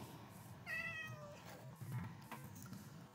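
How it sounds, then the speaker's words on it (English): A cat meows in a farm village video game, a single faint drawn-out mew over low background game noise. "Oh, here's one. Little kitty."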